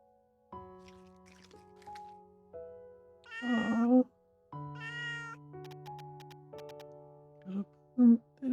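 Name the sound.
cat meowing while eating in Little Witch in the Woods video game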